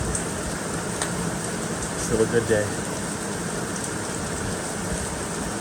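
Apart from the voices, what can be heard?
rain falling on a roof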